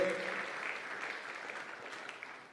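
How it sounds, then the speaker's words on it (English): A conference audience applauds the President of Tanzania, a dense, steady clapping that stays fairly even before trailing off at the end. "Big round of applause, ladies and gentlemen, to her for hosting us today."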